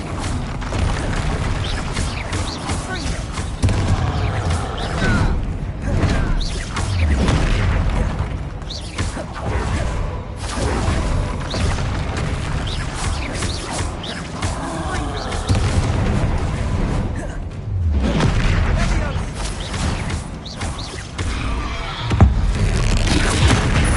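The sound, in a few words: Bombarda blasting spell explosions in the video game Hogwarts Legacy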